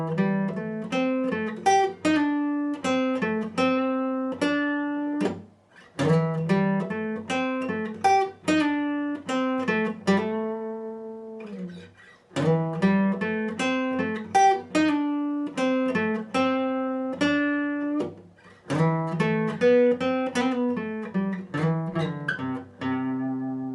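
A solo guitar plays the introduction of a song at full speed, a steady stream of picked notes and chords up close with brief pauses between phrases, no voices.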